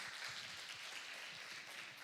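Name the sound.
applause welcoming a newcomer at church service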